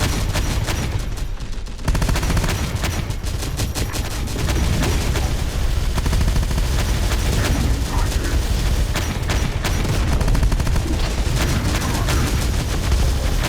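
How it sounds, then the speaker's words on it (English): Dense, loud battle noise from Terminator Dark Fate Defiance, with anti-tank weapons firing among constant gunfire, machine-gun bursts and booms in a continuous roar, with no talk. "Firing anti-tank weapons at our Rev 6s."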